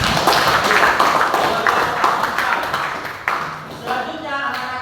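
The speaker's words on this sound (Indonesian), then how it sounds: "Ya, kasih tepuk tangan." A class of students claps their hands during a religious lesson on faith, a close, dense burst of clapping that gradually thins out and fades before the end.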